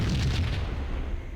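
A grenade explodes in the Max Payne video game, a single heavy boom with a deep low rumble that fades out over about a second.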